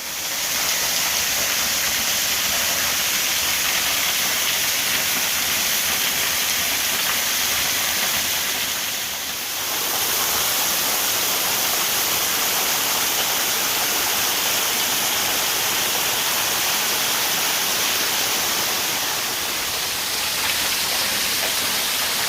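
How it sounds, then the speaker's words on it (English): Parker Falls roars in a steady, loud rush of falling water, unbroken for the whole stretch, with no voices. "get down here and check out the waterfall"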